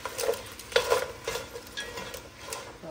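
Crab pieces and sugar being stirred in a cooking pot for a sour crab soup, with a soft sizzle and a few clanks of utensil against metal, close and moderately loud.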